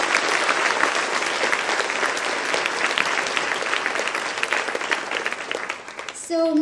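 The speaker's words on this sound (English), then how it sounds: "Like, huge clap." Loud, sustained applause from an audience at an inspirational speech event, steady clapping filling the room for several seconds before it thins out at the end.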